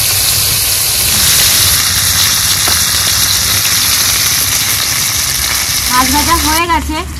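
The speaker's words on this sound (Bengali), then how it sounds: "এবার মাছগুলো তেলে দিয়ে দেব।" Pieces of rohu fish frying in hot oil in a pan for a Bengali lau data recipe, a loud, steady close sizzle and hiss throughout, with a brief voice near the end.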